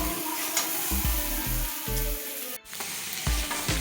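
Pointed gourd (potol) frying in oil in a pan for a potato-potol curry, a steady close sizzle broken by regular scrapes and stirs of a spatula, with a brief hiss dip partway through.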